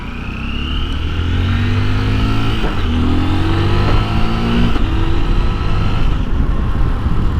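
Motorcycle engine revving and accelerating along the Ha Giang Loop in northern Vietnam, a loud, steady mid-range drone with rising and falling pitch sweeps as the bike speeds up, close and continuous with no talk.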